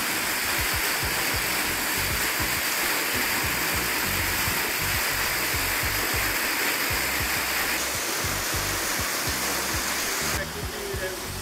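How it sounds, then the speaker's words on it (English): A small waterfall in the dry season, a constant close roar of falling water with a broad rushing hiss and low rumble, continuous throughout, with voices faintly beneath. "So yeah, you can see this is the waterfall."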